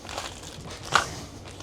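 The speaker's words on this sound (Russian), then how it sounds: "Убираем весь этот мусор назад." Plastic packaging from a passenger kit aboard a sleeper train is crumpled and stuffed away: faint, continuous crinkling close by, punctuated by one sharper crunch midway.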